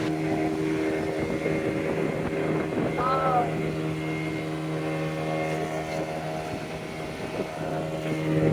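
A boat motor idling near a bridge on a lake at Nuwara Eliya, a steady close droning hum with a low tonal rumble running throughout, loud and continuous.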